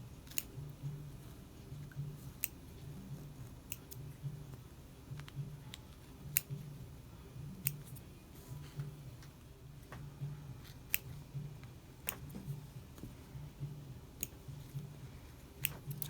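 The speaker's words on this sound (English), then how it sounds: "Let's just zoom in and trim off these threads." Scissors snip loose quilting threads on a trapunto sample at a work table, giving sparse, sharp little clicks at irregular intervals over a low, steady room hum.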